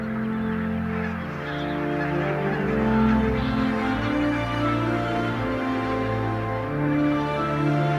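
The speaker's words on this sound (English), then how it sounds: "As dusk falls, flocks of geese move into their sleeping quarters in the salt meadows." Flocks of geese honking at dusk in coastal salt meadows of the Wadden Sea, a dense, continuous chorus of overlapping calls, loud and near, with no voices.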